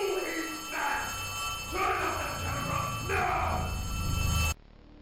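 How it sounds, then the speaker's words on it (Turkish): A video game telephone rings in repeated buzzy bursts, a steady ring pattern over a low background hum, then cuts off abruptly. "Bu da ne? Telefon mu çalıyor? Evet,"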